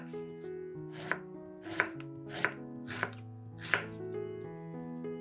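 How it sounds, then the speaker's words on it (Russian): Five or six even knife chops through eggplant land on a board at a slow, steady rhythm, close and distinct over quiet background music. "2 баклажана тоже нарезаем кусочками."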